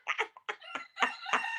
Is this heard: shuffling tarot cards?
no